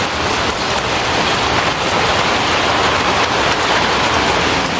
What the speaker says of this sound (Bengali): প্রতিটা দিন এরকম বৃষ্টি আর ভালো লাগে না